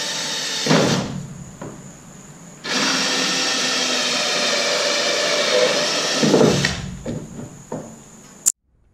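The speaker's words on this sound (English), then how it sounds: "So what I'm going to do is I'm going to drill a hole right here" A power drill bores a hole in a container to fit a return port on a homemade hay preservative applicator. It runs as one steady, loud whine of about four seconds, bracketed by shorter bursts and handling knocks.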